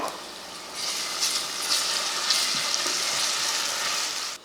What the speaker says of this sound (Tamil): வெங்காயம் இந்தளவுக்கு வதங்கணும் அதாவது பச்சை வடை போகிற வரைக்கும் வதக்கிட்டு